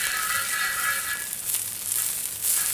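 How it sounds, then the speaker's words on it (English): Beef fat sizzling on a hot disc grill during seasoning, a steady close crackling hiss with brief surges as the fat is rubbed around. "rubbing that beef fat around a little bit, letting the grease come out"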